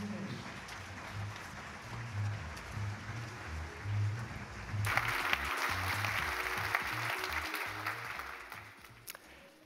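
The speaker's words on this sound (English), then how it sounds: "Please welcome Mr. Sculley with a big applause." Applause greets a keynote speaker taking the stage before a huge audience in Tokyo. The clapping starts softer under a low background rumble, then swells into a broad, sustained roar of many hands.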